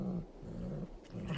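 Cat creature in the video game Rimworld letting out a low, rough growling snarl, close and continuous with a few brief breaks, sounding more like a dog or big cat than a meow.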